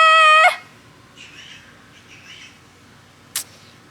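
Pet parrot Oliver calling from its enclosure at home, a single loud harmonic squawk at the start followed by a faint quieter call and a brief sharp chirp near the end, with quiet room background.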